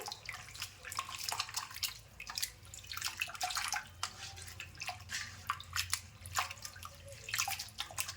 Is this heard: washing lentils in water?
yes